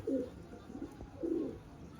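Soft, low cooing of pigeons in two rolling phrases, close by, with no voices.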